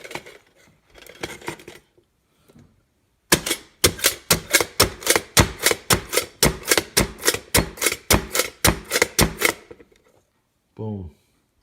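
A handheld chopper device chops up plant material in a fast, regular burst of about twenty sharp clacking strokes, close and loud, with someone talking briefly before and after.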